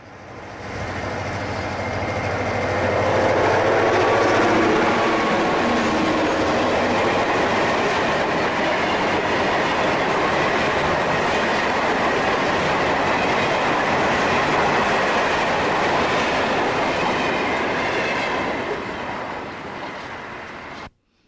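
A northbound FEC work train of empty ballast hoppers rolls at about 25 mph through downtown St. Augustine toward a big curve, a loud steady rumble with rhythmic wheel clatter that swells early and holds for most of the pass.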